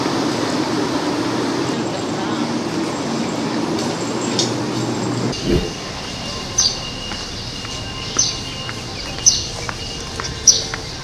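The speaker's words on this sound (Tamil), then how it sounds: "ட்ரெயின்." A train rolls steadily on a scenic line in Taiwan, with a constant low rumble in the first half. A quieter interior follows, marked by periodic soft knocks and a high tonal whine.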